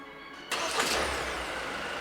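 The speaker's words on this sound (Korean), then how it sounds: "항상 이제는 앞으로 지하주차장에서 차에 다가갈 때 무선 시동을 걸고 차에 다가갈 겁니다." Kia Carnival minivan in an underground parking garage starts remotely from the key fob, a quiet hum suddenly jumping into a steady idling engine rumble that continues close by.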